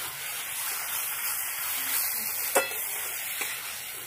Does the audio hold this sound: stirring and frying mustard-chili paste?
yes